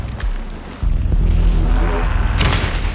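Gunfire from the video game Alan Wake 2, fired at a fast enemy, blasts loudly within a dense, continuous roar of booming impacts and rumble, with a sharp surge near the start and crackling bursts later.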